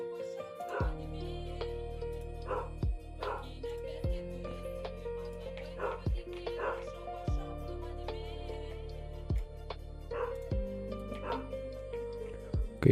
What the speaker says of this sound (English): Then can my dog bark any louder?